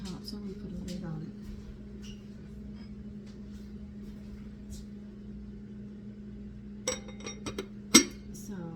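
A lid set onto a baking dish of 1796-style rice pudding with wine: a quiet kitchen hum, then a few close ceramic and metal clinks with one sharp knock as the lid settles, no talk.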